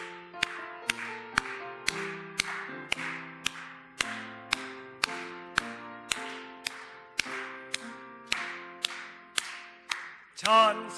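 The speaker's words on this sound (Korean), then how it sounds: "우리 계속해서 박수하시면서 찬양하시겠습니다." Christmas service congregation at a Korean church clapping in steady unison to a hymn, sharp evenly spaced claps ringing out over sustained tones for about ten seconds.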